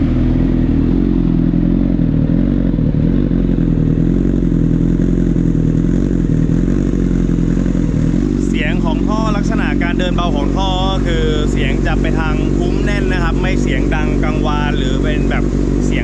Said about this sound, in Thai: เดี๋ยวเรามาฟังเสียงท่อกันดีกว่านะครับ ว่าคันนี้เสียงท่อจะเป็นอย่างไรนะฮะ